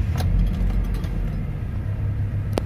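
A Toyota car engine with electronic throttle control runs at a steady low idle, a close, continuous rumble with a brief sharp click near the end.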